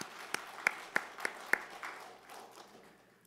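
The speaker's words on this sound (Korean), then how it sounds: "우리 감사의 박수 한번 하겠습니다" Small, sparse applause from a modest gathering, a handful of distinct claps spaced at roughly even intervals, then softer scattered clapping fading out quietly.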